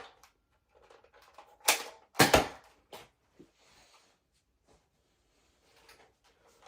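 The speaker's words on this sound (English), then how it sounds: "Alright, I'll just fire this one again then." A Nerf N-Strike Element EX-6 blaster fires a dart with a couple of sharp, close mechanical clacks, set among quieter handling clicks and rustles.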